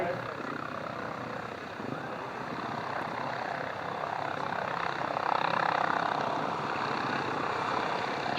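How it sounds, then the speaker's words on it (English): A helicopter pulls out of the pits area at a European grasstrack sidecar racing meeting, its rotor and engine a continuous broad drone that swells slightly toward the end, heard alone without commentary. "As we can see the helicopter pulling out of the pits area."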